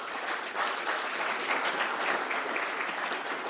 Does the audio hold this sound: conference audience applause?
yes